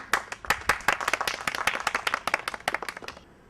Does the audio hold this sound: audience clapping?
yes